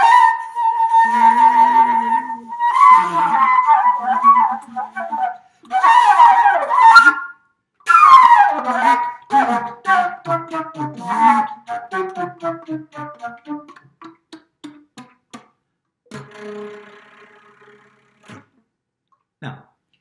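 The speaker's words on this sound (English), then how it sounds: "some of it was improvised upon just some of the unusual colors developed for the flute" Solo flute plays improvised phrases: a held note, then quick runs and breathy flourishes, broken by short pauses and fading toward scattered soft notes.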